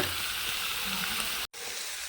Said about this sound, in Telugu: ఇది చక్కగా వేగుతున్నాయండి